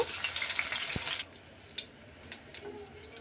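Loitta fish fries in a pan with a loud, bright sizzle that suddenly drops to a quieter crackle, followed by scattered small pops and a few light clinks.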